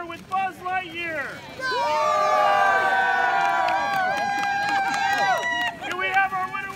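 A crowd at a wacky races event cheers loudly for the Buzz Lightyear entrant, a sustained burst of high-pitched screams and whoops lasting several seconds, with talking voices before and after.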